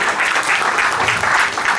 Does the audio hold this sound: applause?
yes